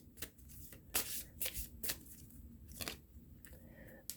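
Playing cards are shuffled and cut by hand in quick, crisp bursts of riffling and slapping, separated by short quiet gaps, close and fairly soft.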